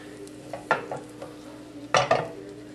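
A rice flour pancake in a pan being flipped, with soft spatula scrapes and clatters over a faint, quiet sizzle, two louder bursts standing out.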